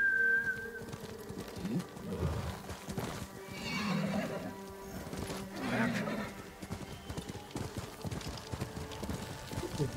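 A horse clip-clops along in Ghost of Tsushima, with steady hoofbeats, snorts and a whinny, while birds coo faintly nearby and someone talks over it.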